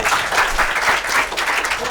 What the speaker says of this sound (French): Applaudissez pour René